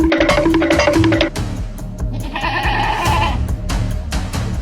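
A goat bleats from inside a washing machine: a run of loud, close bleats in quick succession, then a longer, higher-pitched bleat over steady background noise.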